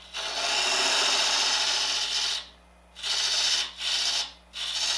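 A negative rake scraper takes light cuts on spinning wood on a lathe while a bottle is turned from a branch, a steady close scraping hiss that breaks into shorter passes, over a low motor hum.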